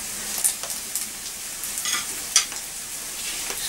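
Special fried rice sizzles in a pan while a utensil stirs it, giving repeated scraping and tossing strokes over a steady hiss.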